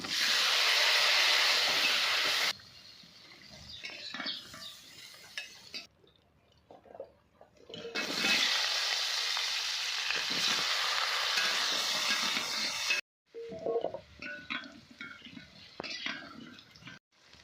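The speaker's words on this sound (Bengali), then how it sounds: "লোহার কড়াতে ভাজে দিই সব কিছু" Bitter gourd frying in an iron wok, a loud, steady sizzle and hiss that drops out briefly several times and returns, with stirring scrapes and clatter in the quieter gaps.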